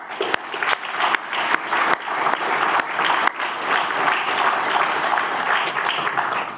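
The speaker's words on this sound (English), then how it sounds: "everyone, I think, organising today across the two organisations clearly deserve a good round of applause" A conference audience applauds after a keynote introduction, a dense, sustained round of clapping from a sizeable crowd that holds steady for several seconds, with a few sharper claps standing out near the start.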